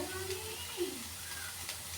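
Cauliflower pieces frying in oil in a wok, with a steady soft sizzle and occasional stirring scrapes, fairly faint and close, no talk.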